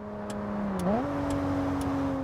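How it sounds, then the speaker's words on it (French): Steady ticking of a Honda car's turn signal, four evenly spaced clicks over a constant engine hum whose pitch steps up partway through, with no talk. "fais attention, t'as ton clignotant à gauche"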